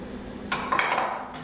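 Onion and garlic drop into a pan of heating olive oil for brown rice with herbs, a brief metallic clatter of pan and utensil followed by a soft, close sizzle.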